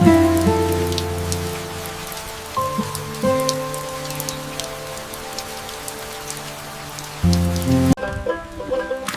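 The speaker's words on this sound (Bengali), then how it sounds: "মেঘ থেকে বৃষ্টি ঝরছে।" Steady rain patters on a surface, with scattered drops tapping throughout and a low droning hum underneath.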